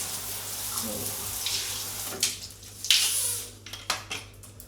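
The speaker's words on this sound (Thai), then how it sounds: "ฉีดน้ำล้างให้สะอาด" Water sprays to rinse cleaning spray off a stainless steel bathroom fixture, a steady close hiss that breaks into uneven splashing bursts toward the end.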